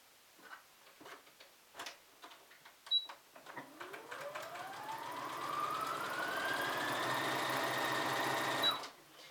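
A Brother SB3129 computerized sewing machine stitching through fleece: a few soft clicks, then the motor whirs up in pitch and holds a fast, even stitching drone before stopping abruptly.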